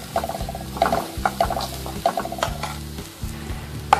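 Onions and chillies fry in a pan while a utensil stirs them, giving a loud sizzle broken by repeated clacks and scrapes in an uneven rhythm. No voices are heard.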